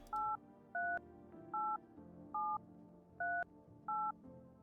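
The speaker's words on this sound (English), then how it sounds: "what we can do is call the neighbor" Touch-tone keypad dialing in a video game phone call to the neighbor: six short dual-tone beeps spaced roughly evenly, each distinct, over quiet low background hum.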